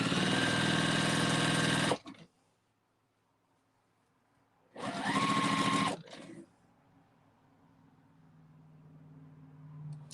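A sewing machine stitches strips of Christmas fabric together in two loud, steady bursts of about two seconds each, separated by quiet, with a softer low hum afterward.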